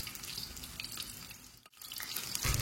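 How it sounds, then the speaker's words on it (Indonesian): Cubed tofu frying in a pan of hot oil over a high flame, a steady broadband sizzle and crackle that runs continuously at a fairly close level, briefly dipping near the middle before resuming. "Goreng tahu di minyak panas yang apinya besar."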